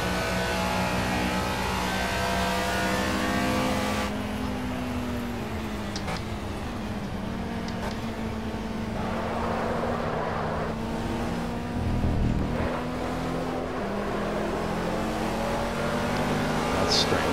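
Onboard engine of a G40 Junior race car in a PC racing game at Oschersleben, droning steadily with shifts in pitch as it accelerates and brakes, under intermittent talk.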